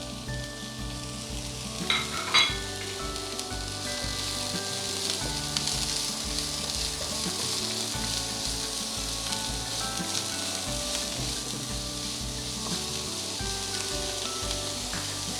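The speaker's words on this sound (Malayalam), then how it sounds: "പെരിഞ്ജീരകം മൂത്ത് വന്നിട്ടുണ്ട്. നമുക്ക് സവാള അതിലേക്ക് ഇടാൻ." Chopped onions hit hot oil with toasted fennel seeds in a pan for Kerala-style chicken cutlet, giving a steady, close, crackling sizzle that runs evenly throughout with a few sharper pops near the start.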